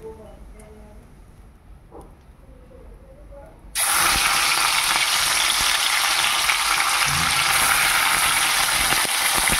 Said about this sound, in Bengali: তো প্রথমে মাছগুলো ভেজে নেব